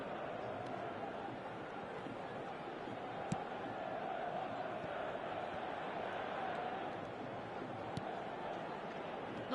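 A stadium crowd in the eFootball 2025/2026 football video game roars in a steady, dense wash that holds level throughout, with a couple of sharp clicks and a match commentator talking over it.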